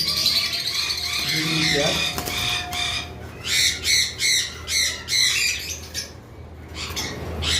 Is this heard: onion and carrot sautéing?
no